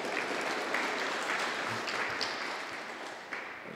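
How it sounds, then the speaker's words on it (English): Audience applause at an artist talk, steady dense clapping from a crowd for a photographer at the back of the room, holding even throughout with a few louder claps. "give him a hand of applause"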